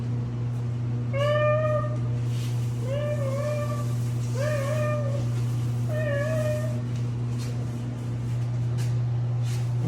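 A cat meows four times in a steady series of clear, fairly loud calls, over a constant low electrical hum.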